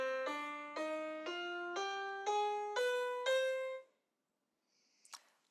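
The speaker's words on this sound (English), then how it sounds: "The harmonic minor then will sound like this." A C harmonic minor scale rises step by step in seven clear, evenly spaced sustained notes on a pitched instrument, played alone, followed by silence and a brief faint noise.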